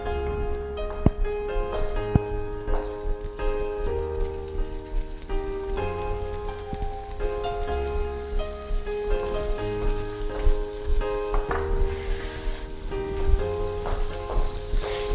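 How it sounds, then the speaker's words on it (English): Onions sauté in melted butter in a pot, giving a steady, gentle crackle and sizzle beneath a sustained tonal musical background throughout. "Saute your onions to golden, not brown, golden."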